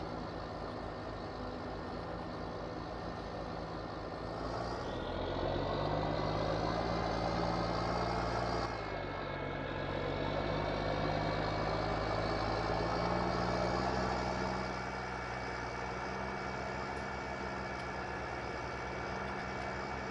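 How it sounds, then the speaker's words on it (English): A big tractor engine in Farming Simulator drones steadily for the whole stretch, a loud, low diesel rumble whose pitch rises and falls as the machine works and shifts load. "I like this tractor. It's a very, very nice big tractor."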